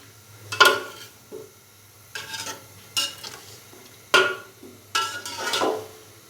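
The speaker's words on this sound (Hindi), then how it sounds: "और चिकन को दही के साथ तकरीबन भून लेंगे 5 से 7 मिनट के लिए।" Chicken is stir-fried with yogurt in a pan, heard as a series of close, sharp scraping and clinking stirs over a faint sizzle, spaced about a second apart.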